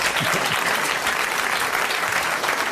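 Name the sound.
audience applause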